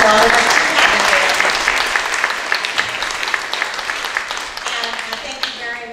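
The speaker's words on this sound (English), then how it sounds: "Let's give him a round of applause for all of us." An audience at a community-centre workshop applauds the facility manager, a loud burst of clapping that thins gradually into scattered claps, with some voices mixed in.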